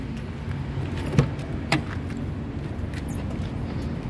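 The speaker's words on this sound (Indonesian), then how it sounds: "Oke, kita coba buka mobil." A 2006 Suzuki APV 1.5 X is unlocked and its door opened, with two distinct clicks and latch clunks over a low, steady outdoor background.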